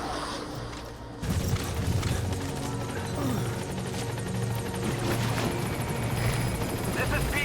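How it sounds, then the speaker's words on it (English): A helicopter in the video game Metal Gear Solid 5 arrives with a heavy, continuous rotor drone that swells suddenly after a quiet start, then holds loud and steady with a low rumbling beat. "I'm coming in on another chopper."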